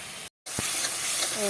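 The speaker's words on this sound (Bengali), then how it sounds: "ভালো করে মশলাটাকে আর একটু কষিয়ে নেব" Masala spices with tomato sauce fry in hot oil in a pan, giving a loud, continuous close sizzle and hiss that briefly cuts out and then resumes.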